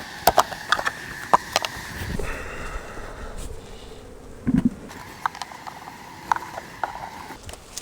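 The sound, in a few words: honey bees buzzing while shaken into a hive box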